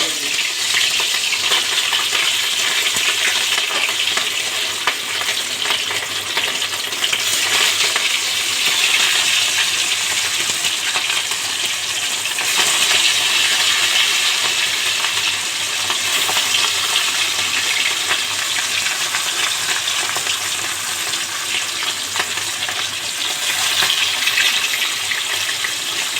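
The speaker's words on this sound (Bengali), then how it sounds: "মাছটা ভেজে নিই" Rui fish fries in hot oil in a pan, a loud, dense, continuous sizzle and crackle filling the whole stretch without letting up, no one speaking.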